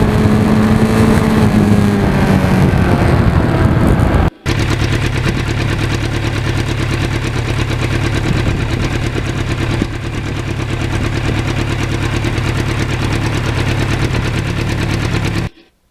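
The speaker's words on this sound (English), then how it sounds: "we still had the relatively loud Norton muffler on the bike at this time." A 1991 Yamaha FZR motorcycle fitted with a relatively loud Norton muffler, riding on back roads; its engine drones steadily and loudly throughout, with a brief dropout near the start and no talking.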